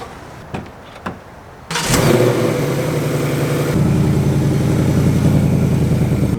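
After a few clicks, a Mustang V8 muscle car engine cranks and catches with a loud start, settles into a rumbling idle, then lifts into a deeper, steadier rev, close up with no talking.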